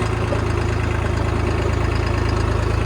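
A New Holland 3630 4x4 tractor engine running at a steady idle, a loud, close, continuous diesel rumble with an even low throbbing pulse and no speech over it.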